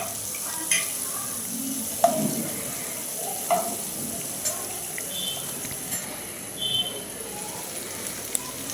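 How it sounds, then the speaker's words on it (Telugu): Sliced onions frying in a pan on the stove for a gongura chicken dish, a soft steady sizzle with occasional stirring scrapes and taps, someone talking over it. "బాగా రెడ్ కలర్ వచ్చినంత వరకు కూడా హీట్ చేయాలి ఉల్లిపాయలని."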